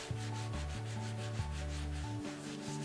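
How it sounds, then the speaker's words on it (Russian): Sandpaper rubs rhythmically over a rose bas-relief made of gypsum plaster filler, close back-and-forth scraping strokes about once every second. "приступайте к шлифовке рельефа"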